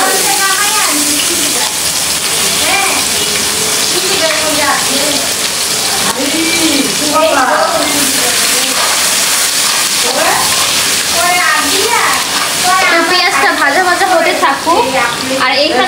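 Constant sizzling of onions and fenugreek seeds frying in a hot pan, while a person talks over the cooking sound.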